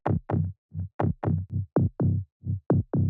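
A layered synth bass in a melodic bass house style plays a bouncy sequence of short, punchy notes with brief gaps, fuller in the lower middle range.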